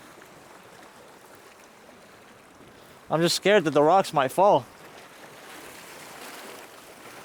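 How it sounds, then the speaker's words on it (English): Water washes steadily past rocks along a shoreline near an old fort, a soft continuous rush heard alone at first, briefly covered by a person talking, then running on quietly. "I love the sounds of the water."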